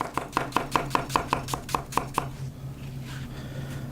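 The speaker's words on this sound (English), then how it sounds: "Then once the peel's off, we can chop those up." Knife chopping peeled apples on a cutting board for a pie, about ten crisp, evenly spaced close chops over two seconds, then quiet kitchen room tone.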